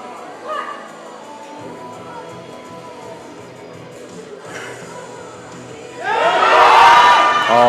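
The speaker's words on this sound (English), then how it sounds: "big applause for Lisa Harrington" Crowd at a Scottish Masters powerlifting championship cheers and whoops for lifter Lisa Harrington after her British squat record attempt in the under-84 kg M2 class, a quiet murmuring room that swells into loud sustained cheering over the last couple of seconds.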